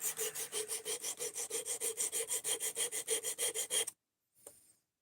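A knife blade is sharpened with steady back-and-forth strokes, about twenty even rhythmic rasping scrapes, close and clear, then stopping abruptly and followed by one faint brief scrape.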